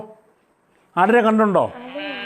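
A goat lets out one loud, wavering bleat that trails off, after a quiet, faint voice.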